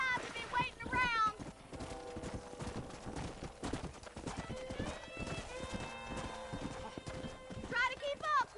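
A horse gallops in Red Dead Redemption, with rapid hoofbeat clip-clops throughout, sharp whinnies near the start and end, and voices talking over the ride.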